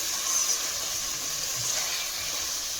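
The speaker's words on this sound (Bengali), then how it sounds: "এবার মশলার সাথে মাছগুলোকে সামান্য একটুখানি কষিয়ে নেব" Small fish being stir-fried with spices in a pan for a small fish chorchori with lemon leaves. It gives a steady, even sizzle and hiss throughout, close and fairly soft, with no talking.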